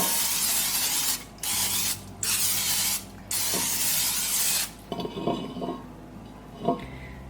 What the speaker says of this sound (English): I'm gonna spray it with some of this olive oil cooking spray.